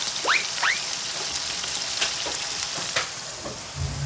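Cabbage, carrots, liver and noodles for pancit batil patong sauté in a hot pan, crackling and sizzling close up with a few sharp spatula scrapes and stirs.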